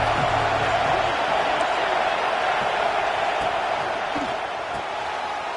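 A college football stadium crowd gives off a steady, broad roar that holds at an even level throughout, dense and distant, with no single voices standing out.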